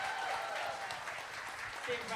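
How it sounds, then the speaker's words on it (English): Steady applause from an audience at a Seattle mayoral candidate forum, moderately loud and continuous, with scattered voices mixed in. "give a round of applause to your Seattle mayoral candidates"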